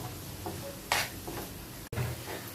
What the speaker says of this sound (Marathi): मग परत चमच्याने त्याला परतून घ्यायचं